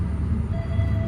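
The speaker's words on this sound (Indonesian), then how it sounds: "di jalur 1 itu dia kereta api Bima masuk" The Bima passenger train rolls into Kutoarjo station on track 1 with a brief, steady, heavy rumble, close and even throughout.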